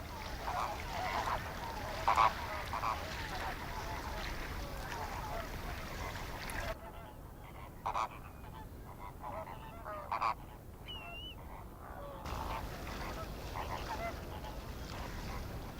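Chilean and Andean flamingos honk and call together in a continuous, noisy flock chorus at saltwater pools on a high plateau in Chilean Patagonia, with louder calls standing out now and then.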